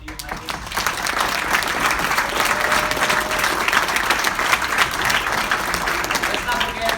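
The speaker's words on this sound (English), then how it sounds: "So, applause to you, Mikey." An award-speech audience breaks into sustained applause, dense and steady for about seven seconds at a moderate distance, with faint voices mixed in.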